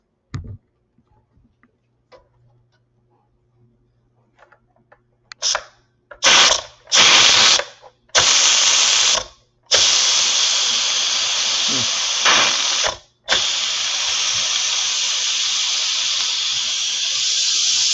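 Steam hisses from a pressure cooker of lentils on force release, starting after a few quiet clicks with several short loud bursts, then settling into a sustained, strong hiss that continues to the end.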